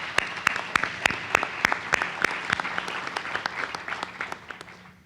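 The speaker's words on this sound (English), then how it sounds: "So let's give our panel a round of applause, please." A round of applause at a conference after a domestic violence panel, with sparse individual claps standing out from the crowd and gradually thinning toward the end.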